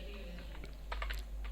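Light clicks of a computer keyboard as code is typed, a quiet, irregular patter of keystrokes over a low steady hum, with no voices.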